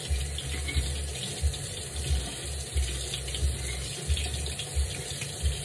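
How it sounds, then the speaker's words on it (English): Hot tap water runs steadily into a sink, with intermittent splashes and low gurgling bursts as nail tools are rinsed one by one under the stream, nearby and without talking. "I just take everything one by one and just rinse it off."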